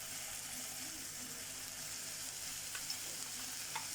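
Onion, tomatoes and peppers frying in a pan, giving a soft, even sizzle close by with a couple of faint utensil clicks near the end.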